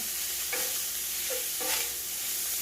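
Pork sausage sizzling steadily in a cast iron skillet over medium-high heat, with a few short scraping stirs of a utensil across the pan, close and continuous.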